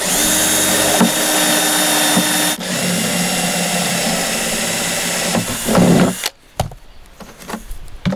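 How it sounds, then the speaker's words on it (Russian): A power drill whines steadily for several seconds, biting through a plastic canister, then stops abruptly and leaves quieter handling noises. "Сверлите отверстие."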